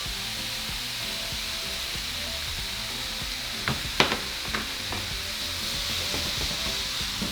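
Ground beef seasoned with chili powder, garlic powder, onion powder, cumin and salt sizzles steadily in a pan, with a few sharp scrapes and taps of a utensil midway.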